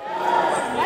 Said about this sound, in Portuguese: Torcida eufórica.